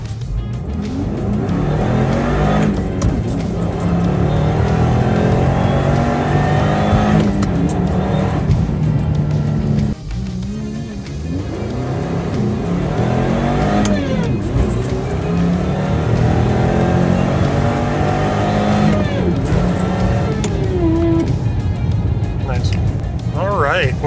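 A supercharged Subaru with an FB25 engine on fresh injectors accelerates hard through a 0 to 60 run, loud steady engine drone with rising pitch through gear changes, a brief dip near the middle, someone talking over it throughout.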